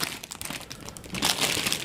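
Plastic packaging wrapped around a roll of foam weather-stripping tape crinkles loudly and close by in a short burst that grows stronger toward the end, with no voices.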